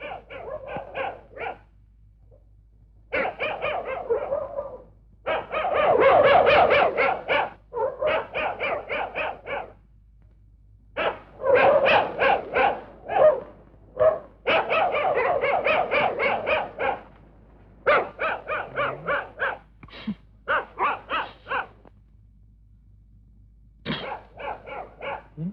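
Dogs bark in loud, close volleys, with rapid barks in repeated bursts separated by brief pauses across the whole stretch, and a few whimpering or growling tones mixed in.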